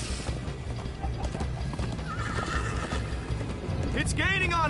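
Minecraft Story Mode video game horse hooves clop in a quick galloping rhythm beneath game music and character chatter, ending in a loud, close whinnying neigh.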